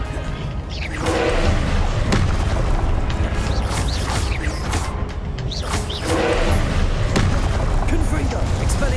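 Confringo blasting spells explode over and over in Hogwarts Legacy, loud repeated booms and thuds mixed with game effects, with a voice casting spells over them.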